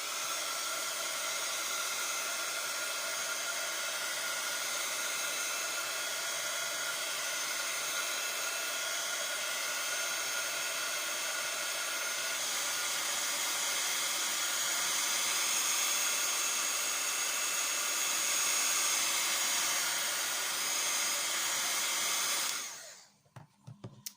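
A heat gun blows a steady, loud, close airy roar for about twenty seconds to dry paint on a decorative explosion-box craft project, then cuts off abruptly near the end, with no talk.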